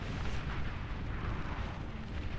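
A bombing run in an 8v8 naval strategy game, with continuous rumbling explosions that blend into a dense roar, steady and fairly loud, with no voices.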